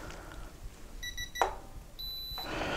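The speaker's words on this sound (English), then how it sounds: "All right, it should beep" A Ryobi ratchet torque wrench gives a short electronic beep on reaching 35 foot-pounds, followed by a clunk and then a longer steady tone, fairly quiet against a low background hum.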